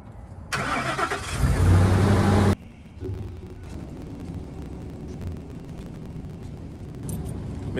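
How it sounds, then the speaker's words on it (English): A truck engine cranks and roars to life in a loud two-second burst, then settles into a steady running rumble as the vehicle pulls away, with no speech. "And once we do that, then this truck can actually move out."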